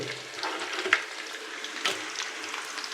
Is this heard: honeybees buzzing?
no